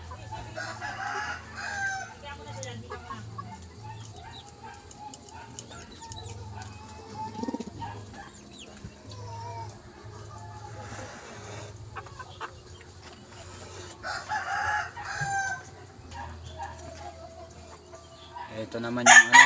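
A rooster crows several times among pigeons kept in a loft, the calls ringing out clearly over soft cooing and clucking, with someone talking quietly at moments and a louder burst near the end.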